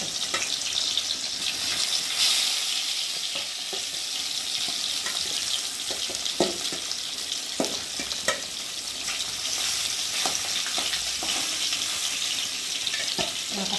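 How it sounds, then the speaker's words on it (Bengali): Fish frying in oil in a pan, a continuous close sizzle with scattered crackles and the occasional clack of stirring. "আর মাছগুলো মানে সেরকম করে ভেজে নেব"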